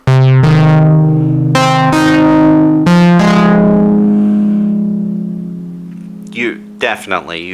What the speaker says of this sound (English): you can hear that there's a lot of distortion there